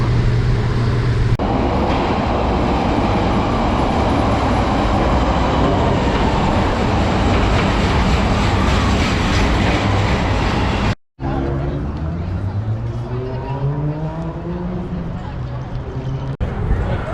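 Steady loud rumble and rattle of a Chicago subway train in motion, continuous roar throughout, briefly cutting out before carriage noise and faint voices continue.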